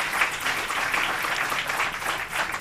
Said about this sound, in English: Just give them a great round of applause for their work putting this session together.